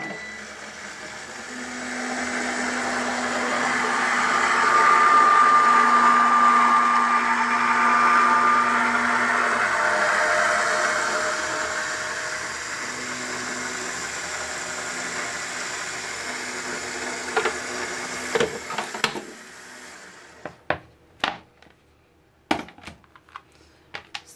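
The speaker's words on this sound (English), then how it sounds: "And let's go ahead and run that through." An eBosser electric embossing machine feeding a plate sandwich with a No More Shims embossing mat through its rollers, a steady motorized whir that swells and fades, then stops, followed by scattered clicks and handling taps.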